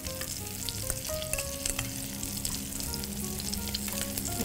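Bread toasts fry in a pan, giving a close, steady sizzle with crackling pops and faint scraping, without any talking.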